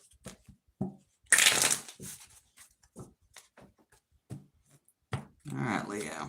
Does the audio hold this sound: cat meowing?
no